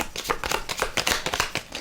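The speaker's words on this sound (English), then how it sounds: "the discard pile now gets shuffled" A discard pile of playing cards for the board game Raxxon gets shuffled by hand in a rapid run of crisp, papery riffles and flutters, close up and unbroken.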